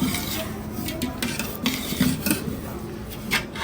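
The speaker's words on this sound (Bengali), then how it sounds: "আমি ডালটাকে ভাজছি" Dal fries in a pan while being stirred, with scraping metal utensil strokes, clinks against the pan and faint sizzling underneath, close and irregular.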